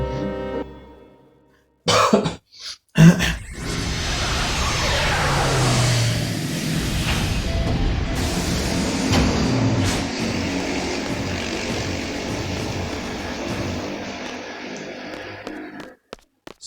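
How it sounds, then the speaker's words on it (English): Motorcycles revving outdoors, a loud rising engine roar that swells and falls for about twelve seconds after a few sharp bursts and coughs near the start, then stops abruptly. "Sorry for the noise. Motorcycles revving."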